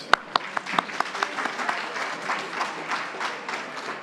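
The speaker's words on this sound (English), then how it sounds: "Yes, another round of applause" Several crisp, distinct claps lead into a sustained round of audience applause for panelists at an urban forum, fairly faint and steady with no speech over it.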